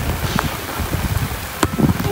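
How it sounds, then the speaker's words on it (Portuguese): Heavy rain falling during an outdoor football game on an inflatable mattress, a dense steady hiss with wind buffeting the microphone and a few brief knocks. "Nossa, que chuva forte."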